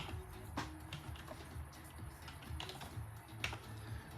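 Keys clatter at a close computer keyboard as commands are typed into CAD software. The taps come in quick irregular bursts with brief pauses, quiet and alone.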